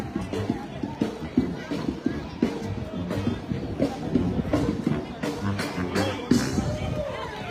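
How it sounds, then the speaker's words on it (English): A crowd gathers around a holiday music show at Disney's Hollywood Studios, a busy murmur of chatter, footsteps and scattered voices with faint music, while a person talks nearby over the hubbub. "And Hollygroove is drawing quite a crowd over here."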